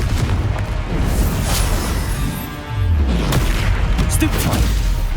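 Confringo spell explosions in the Hogwarts Legacy video game, dense rumbling booms and crackling blasts that keep on throughout at a loud level, with game combat noise layered on top.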